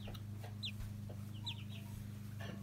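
A black Australorp hen gives a few soft, short clucks among other chickens, faint over a steady low hum in the background.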